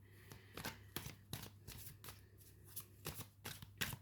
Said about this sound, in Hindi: मैं थोड़े से कार्ड्स और डिफरेंट डेक से भी ले लेती हूँ।